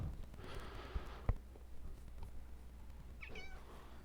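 A pet cat gives a single soft, wavering meow near the end, faint against a quiet indoor room with a few small thumps earlier.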